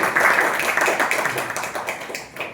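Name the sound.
audience applause at a Toastmasters meeting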